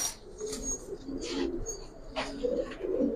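A female Giribaz pigeon coos close by in soft, repeated throaty bursts, interspersed with a few brief higher chirps against quiet background noise.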